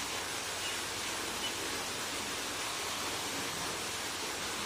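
Water from a bore well pouring into a farm well, a continuous even rushing and splashing hiss that holds steady without pause, with no voices.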